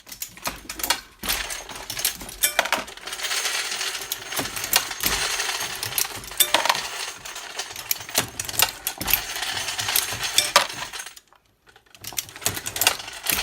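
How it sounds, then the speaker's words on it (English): An ammunition reloading press with a running case feeder loads .38 Special rounds, giving a dense, continuous metallic rattle with clinking brass cases and sharp mechanical clicks, close and loud. One brief pause falls near the end. "Make sure my case feeder's on."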